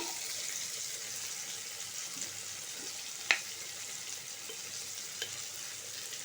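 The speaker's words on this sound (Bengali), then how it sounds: "ছাড়ানো আমলকিটা তেল দিয়ে ভালো করে নাড়াতে হবে" Peeled amla, Indian gooseberry, frying in oil while being stirred, a faint steady sizzle with a sharp scrape or clink at about the midpoint and another soft tap near the end.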